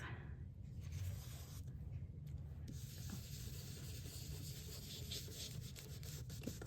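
A stencil brush or applicator rubbed with ink through a rose stencil onto paper, giving a steady, close, soft scrubbing texture that runs throughout.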